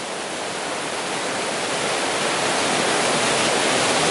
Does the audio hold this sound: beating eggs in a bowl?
no